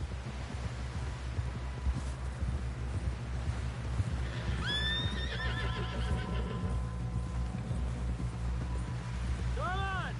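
A horse in the video game Red Dead Redemption gives a loud, close whinny midway and another at the end, over steady clip-clop of hooves and rustling ambience, with voices talking in the background.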